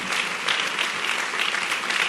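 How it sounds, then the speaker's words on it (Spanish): Church congregation giving a strong round of applause, a dense, even wash of many hands clapping at once, steady and fairly loud throughout the short stretch. "¿Que no le das un fuerte aplauso al Dios Todopoderoso?"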